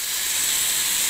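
Tomatoes hitting a hot pan for a quick chicken breakfast dish give off a steady, loud broadband sizzle and hiss that holds evenly through the short moment with no talking.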